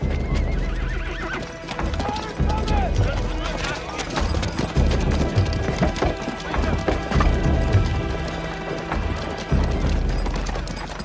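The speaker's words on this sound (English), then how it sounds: "They reined back on their horses." Riders rein back their horses as they approach a town in a Mexican-set western action scene, with loud close hoof clip-clops, repeated whinnying neighs and wooden creaks, busy and continuous throughout.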